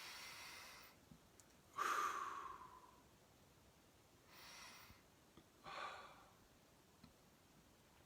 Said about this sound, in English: So big breath in, gathering up all uncertainty, worry, fear. And then big exhale.